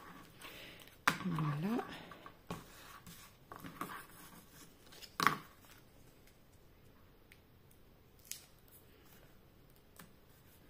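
3D foam pads are cut into small pieces with scissors while making an Easter pop-up card. A few soft snips and clicks are heard under intermittent close talk.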